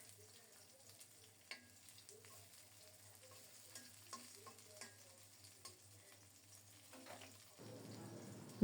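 Bitter gourd pieces coated with salt, turmeric and rice flour sizzle in hot oil in a pan, a soft steady frying crackle with scattered stirring clicks, getting louder and hissier near the end.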